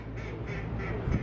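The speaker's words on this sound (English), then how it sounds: "duck." A duck quacks a few times at mid distance over steady outdoor crowd and ambient noise near a construction area at Frontierland, with a slightly louder call near the end.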